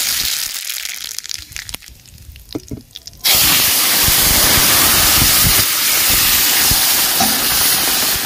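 Cumin seeds, dried red chillies and radhuni dropped into hot oil in a freshly washed kadai, bursting into a loud, steady, close sizzle and hiss after a few seconds of quieter clatter.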